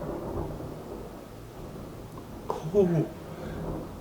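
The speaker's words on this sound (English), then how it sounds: "I just seen a lightning like just come down. That shit was kind of close." Thunder from a nearby lightning strike rumbles low beneath steady rain, swelling to a brief louder crack and roll near the middle while a man reacts with a short exclamation.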